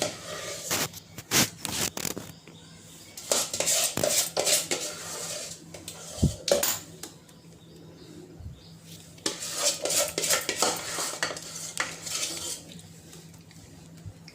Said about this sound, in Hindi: अब मैं इसको टैप कर दूँगी ताकि इसमें जो एयर बबल वगैरह हो वो सब बराबर हो जाए